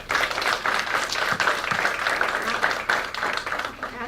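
Audience at a community energy-program event clapping, a steady mid-level patter of hands with some voices mixed in under the applause.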